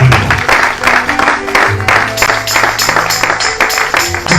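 A church congregation claps loudly for Jesus Christ, rhythmic hand claps mixed with crowd noise, voices and music, close and sustained.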